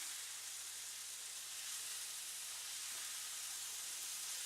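Vegetables and tofu chunks sizzle and fry steadily in a hot pan, a continuous close hiss with faint stirring and a low steady hum underneath, no talk.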